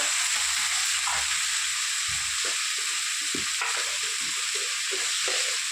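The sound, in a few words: stirring cucumber dried fish curry in pan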